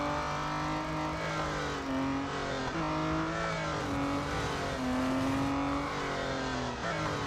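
Race car engine from Real Racing 3 drones steadily at high revs and rises and falls with gear changes. The car runs backwards around the course, loud and continuous, with no voices.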